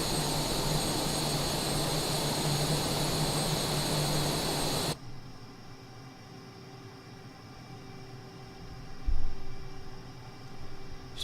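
An F-18 fighter jet in Microsoft Flight Simulator 2024 roars on full afterburner, a loud broadband blast that cuts off abruptly midway to a low engine hum, then a brief thump.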